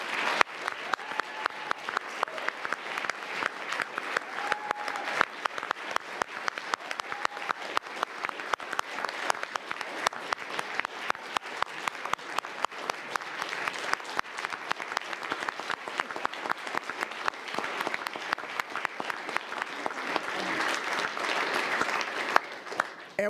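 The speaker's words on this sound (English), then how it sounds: "You may applaud." Audience at a city commission meeting applauding an honoree, steady crowd clapping heard from a distance, moderately faint but continuous for over twenty seconds with rhythmic individual claps standing out.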